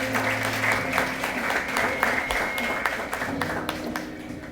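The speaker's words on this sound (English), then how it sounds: "So we'd like to give them a round of applause for" An indoor audience at a ribbon cutting ceremony claps steadily and warmly, a dense sustained round of applause with no voices over it.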